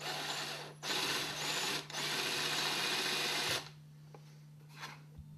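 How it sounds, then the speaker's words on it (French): Metal drill bit boring a few millimetres into wood, a close power-drill whir running in two bursts of about one and two seconds, then stopping with a few faint clicks and a low hum left behind. "j'utilise un foret métal pour creuser le bois sur quelques millimètres."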